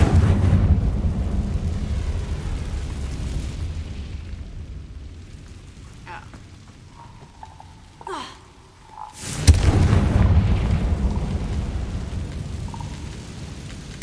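Blast from the Confringo explosion spell in a Harry Potter video game: a sudden loud burst with a rumbling tail, preceded by quieter whooshing spell effects over a dense ambient bed.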